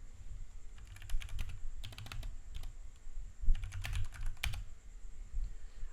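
Someone types on a computer keyboard in quick bursts of clicky keystrokes separated by short pauses, close and clear, with no talking.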